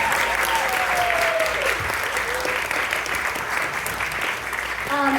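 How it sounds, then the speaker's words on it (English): A symposium keynote audience applauds in a dense, continuous wash of clapping, with a voice briefly heard over it near the end. "go ahead and give them another round of applause."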